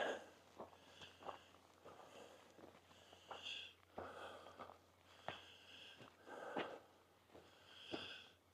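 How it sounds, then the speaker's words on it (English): Heavy, rhythmic breathing from a hiker climbing an uphill trail: close, repeated sniffing inhales and puffing exhales at a steady pace, with faint footsteps underneath. "you don't need to hear me breathing"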